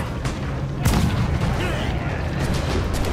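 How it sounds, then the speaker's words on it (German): Ship cannons firing in the Assassin's Creed IV Black Flag naval game, a heavy boom near the start followed by a rolling rumble and scattered blasts over a dense battle din. "So, wir benutzen natürlich die Kanone jetzt mal."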